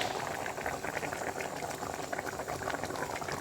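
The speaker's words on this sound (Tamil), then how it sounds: "இங்கே பாருங்கள் இப்போ கொதி வந்துடுச்சு" A pot of mutton trotter paya curry with coconut paste boils vigorously, giving a close, continuous bubbling and churning with no pause.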